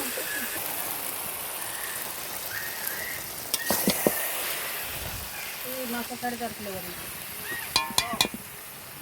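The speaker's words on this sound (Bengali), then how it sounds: "এবার মেজদি ভাই মাংসটা বসিয়ে দিয়েছে, মাংসটাকে কষাচ্ছে।" Meat braises in a pan with a soft, continuous sizzle. Scattered clicks and clatters of stirring break through, while talk runs over it.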